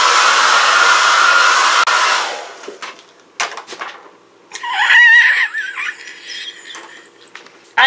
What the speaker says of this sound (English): I'm going to do some blow drying and see what we've got.